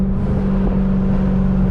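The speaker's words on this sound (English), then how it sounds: "Try to get y'all some downshifts as well. Hope y'all can hear the burbles in it." A catless Dodge 392 Scat Pack rumbles close and loud through a downshift, a dense low exhaust drone with a short crackling pop, no talking over it.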